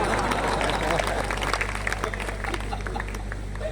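Dense, steady applause from a crowd at a Hindi comic poetry gathering fills the hall, continuous and fairly loud, with murmuring voices and a low hum mixed underneath.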